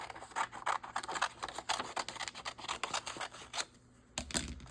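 Scissors snip through paper scraps close by in a craft session, a busy run of quick crisp cuts and rustles, then a short pause and a couple more snips.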